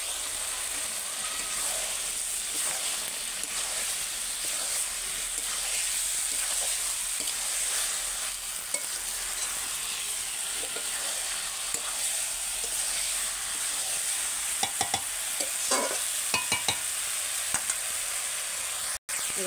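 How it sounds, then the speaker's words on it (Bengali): Continuous close sizzling as green jackfruit and potato are sautéed in a pan, with stirring scrapes and a few sharper clicks of the utensil toward the end, and no voices. "এবার দিয়ে দেবো এঁচড় আর আলুটা, দিয়ে কষিয়ে নেবো ওর সঙ্গে ভালো করে"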